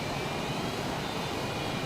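A Boeing F/A-18 jet engine in Microsoft Flight Simulator 2020 gives a steady, loud, broadband roar with no change in pitch and no talking.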